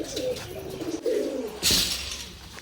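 Domestic pigeons kept in a loft and let out into the sun coo softly at close range, a low throaty murmur with a few rustles and a sharper clatter partway through.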